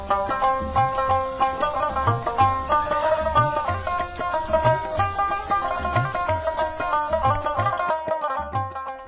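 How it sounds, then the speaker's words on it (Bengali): Crickets in spring village countryside on an afternoon, a continuous high, shrill chirring over rhythmic background music, cutting off shortly before the end. "চৈত্র মাসের এই সময়ে চারিদিকে ঝিঝি পোকার ডাকে গ্রামের প্রকৃতি যেন মশগুল"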